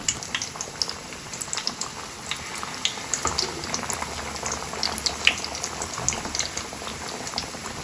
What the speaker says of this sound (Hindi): सारी टिक्कियों को ऑयल में डाल दिया और अब आपने टिक्की को इसी तरह पकने देना है